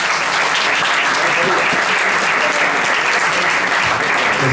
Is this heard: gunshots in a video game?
no